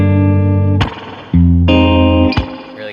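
Drop-tuned electric guitar through spring reverb rings out in two sustained, distorted chords, each cut off by a sharp percussive strum or hit, with no talking.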